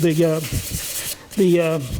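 A small turned wooden necklace pendant hand sanded along the grain with 220-grit paper: two close, raspy rubbing strokes with a squeaky tonal edge, separated by brief scratchy gaps.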